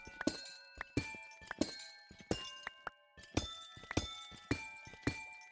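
Amethyst blocks breaking in Minecraft, a regular series of about a dozen bright glassy chiming cracks, each ringing briefly before the next strike, close and alone without talk.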